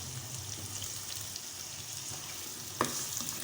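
Chopped onions, two medium ones, going into hot oil with garlic in a pan, a soft steady sizzle with a small stirring clink near the end, quiet and close.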